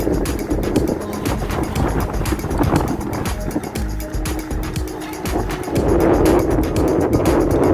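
Strong wind buffets the microphone at the old airport in Tagbilaran, Bohol, in a constant roar with gusty surges, loud and close, with no other clear sounds.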